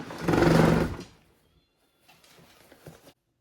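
A sewing machine stitches a boxy makeup pouch in one short, close burst that stops abruptly, followed by quieter handling sounds.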